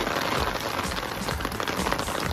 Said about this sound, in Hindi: पहली बार बारिश एंजॉय कर रहा है ना ये शीरो, फर्स्ट रेन।